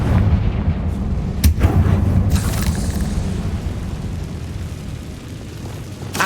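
Confringo blasting spells exploding in the Hogwarts Legacy video game: a loud, sustained rumbling barrage with a sharp burst around the middle, then a continuous boom-laden roar that eases off slightly toward the end.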